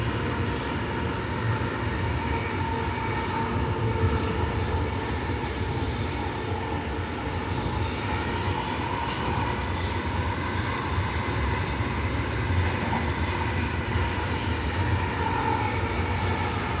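Steady onboard rumble of an Ipswich commuter train on the Brisbane Rosewood line, a continuous low droning roar with constant wheel and motor noise and no talk.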